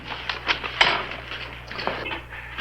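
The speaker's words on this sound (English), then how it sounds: "Yeah, you've always got to count the silverware." Metal cutlery and dishes clink and rattle in a series of light, close handling sounds at an Old West setting, with no talk over them.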